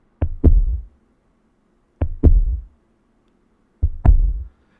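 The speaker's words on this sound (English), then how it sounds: "The main beat that's being kept is being provided by the DFAM." A DFAM analog percussion synthesizer keeps the main beat, playing three evenly spaced double hits about two seconds apart, each a short click followed by a deep, booming thump that decays quickly, with silence in between.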